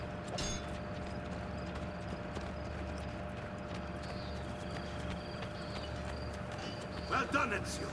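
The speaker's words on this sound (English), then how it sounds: "Oh, I didn't mean to hit the horse." Horse hooves clip-clop at a steady walking pace in Assassin's Creed 2, set against a low, constant game ambience with a few brief clanks and bumps over the top.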